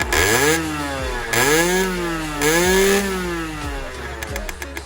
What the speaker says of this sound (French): Aurélien va nous faire un petit coup d'accélération pour nous faire écouter le bruit